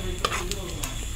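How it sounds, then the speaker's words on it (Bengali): Dry red chilli and black cumin seeds crackle in hot oil as a tempering for a pomfret fish curry, with a steady close sizzle and a few sharp stirring clinks over about a second. "শুকনো লঙ্কা কালো জিরে ফোড়ন দেওয়ার পরে একটু নাড়িয়ে"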